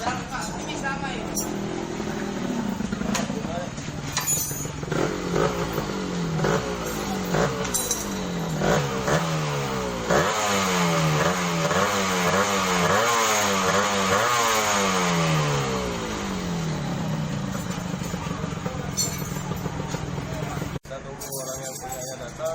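A Yamaha RX King two-stroke motorcycle engine revs hard in a workshop setting, rising and falling repeatedly through the throttle range with a raspy, smoky buzz, loud and close for most of the time before cutting off near the end.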